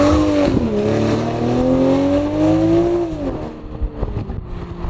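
A Toyota Supra's engine revs while driving, a loud steady drone that rises and falls in pitch before easing off near the end.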